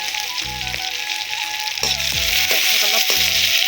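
Sliced onion, green chili and panch phoron sizzle steadily in hot oil for a jackfruit curry, a loud continuous frying hiss broken by several bursts of stirring scrapes in the pan.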